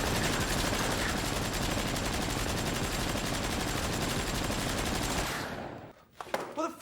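Sustained machine-gun fire in a gangster film scene, a dense, loud, continuous rattle lasting several seconds before cutting off abruptly, followed by brief clatter and a voice.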